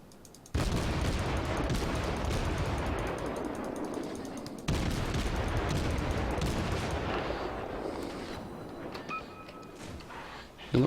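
Heavy naval gunfire from warships in World of Warships, with two loud booming salvos rolling out one after another and long rumbling tails, ending in quieter clanks.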